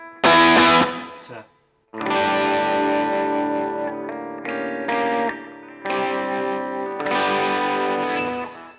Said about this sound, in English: the pickups on this guitar sound really, really nice